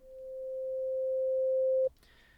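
A smooth, low 808 bass synth tone with a slow attack swells in from silence, growing steadily louder for under two seconds before cutting off abruptly.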